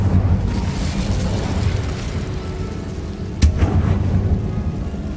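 An Incendio fire spell cast in the Hogwarts Legacy video game, a single sharp burst of flame with a rumbling whoosh over a loud, constant game ambience.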